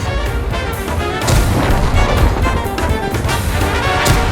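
Tank cannon fire in World of Tanks, a steady loud din of heavy booms and crashing impacts with broadband bursts, one stronger blast near the end, no talk.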